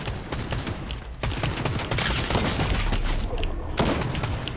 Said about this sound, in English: Master Chief is shooting you from the hill.